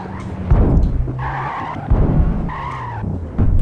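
A Mercedes SLS spins out in Gran Turismo 5 on the Nürburgring, tires squealing and skidding in loud repeated bursts over a rumbling engine, the screech rising and falling about three times.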